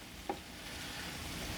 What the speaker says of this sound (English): Look at that. All that sizzle.